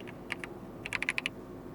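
Keystrokes on a Logitech G316 X computer keyboard: a single tap, a pause, then a quick burst of about six crisp clicks, close and fairly quiet in a still room.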